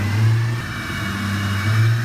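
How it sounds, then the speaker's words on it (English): A Ford Falcon revs hard during a burnout, its engine note low and rough, swelling, dipping and rising again, loud and close, with no voices. "You guys know how to do a hell of a burnout."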